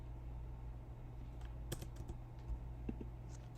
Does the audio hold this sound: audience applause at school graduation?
no